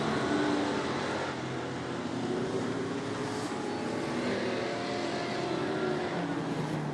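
Short track race cars roar through a corner at a racing series event, a steady dense engine drone from several cars with popping and snapping under it, heard from a distance.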